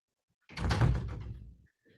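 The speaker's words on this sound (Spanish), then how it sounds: "y cierro la puerta también." A room door swings shut with one solid closing thud and a brief rattle, fairly close and alone in an otherwise quiet indoor space, with a faint click afterward.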